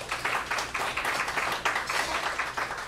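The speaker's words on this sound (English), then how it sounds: "let's give them a round of applause" An audience at an evening talk about living with multiple sclerosis gives a round of applause, moderately quiet and even, with rhythmic clapping that keeps going steadily without talk over it.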